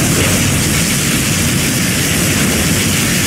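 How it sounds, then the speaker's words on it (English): Particle cannon beam from Command & Conquer Generals Zero Hour, a sustained loud roaring, crackling wash of static-like noise with heavy low rumble, steady and unbroken throughout. "Particle cannon activated."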